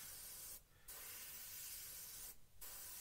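Continuous broadband hiss of a Gaahleri airbrush spraying paint onto a model's engine louvers, close and steady, cut by two brief pauses where the spray stops and restarts.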